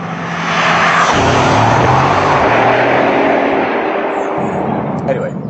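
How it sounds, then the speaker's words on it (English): A Bugatti Chiron driven slowly on a road in Portugal, its engine a loud, steady drone with shifting low tones throughout, heard from inside the car. "I'm driving quite slowly because I'm on a road in Portugal"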